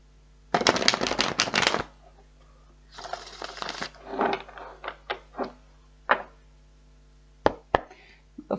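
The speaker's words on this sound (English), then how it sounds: "Like one more shuffle for you guys." Tarot cards shuffled by hand: a long dense riffle burst, then a second softer run, followed by several scattered taps and flicks of cards being squared and set down, close and clear in a quiet room.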